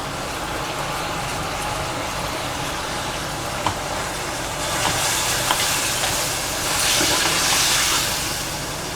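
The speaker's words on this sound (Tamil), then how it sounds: "இஞ்சி பூண்டு பேஸ்ட்டு போட்டுக்கலாம்" Ginger garlic paste with a little turmeric sizzles in a hot pan for Chettinad mutton chukka, making a steady, loud broadband hiss that swells slightly partway through, with occasional faint ticks and no talking.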